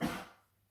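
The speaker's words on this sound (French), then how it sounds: "Désolée pour mon mari qui tousse." A man's single short cough, muffled and somewhat distant, fading quickly into quiet.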